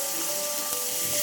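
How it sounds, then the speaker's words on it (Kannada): Mango chutney fries in a pan with a steady, even sizzle and a thin high tone running through, close and continuous over a brief stretch. "ಈಗ ಈ ಚಟ್ನಿನ ಅದಕ್ಕೆ ಹಾಕ್ಬಿಟ್ಟು ಫ್ರೈ ಮಾಡ್ಕೋಬೇಕು"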